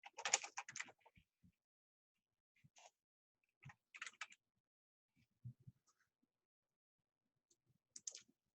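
Someone types on a computer keyboard in a quiet room, with soft, intermittent clusters of key clicks separated by pauses.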